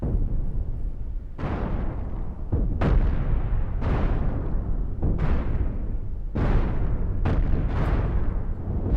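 Cannon fire in the space combat game Cosmoteer: a series of about seven heavy booming blasts at irregular intervals, each a loud sharp crack decaying into a rumbling tail, over continuous low roar with no talking.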